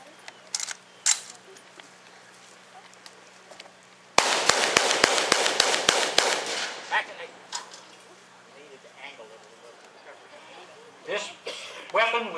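A rifle fitted with a scope rail fires a rapid string of about ten sharp, loud shots close by, with people talking before and after.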